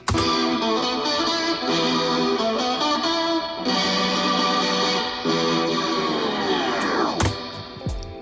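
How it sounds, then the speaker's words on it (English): A distorted, chorus-laden guitar loop plays, then the whole sound slows and drops in pitch, winding down to a stop like a halted record. "I added a record stop right there"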